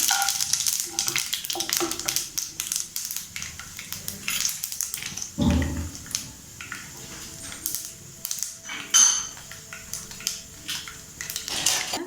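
Peanuts stirred and sizzling in hot oil in a pan while making aval (poha) upma: a close, steady crackling hiss broken by irregular scrapes and clinks of a spoon against the pan, with one duller knock midway.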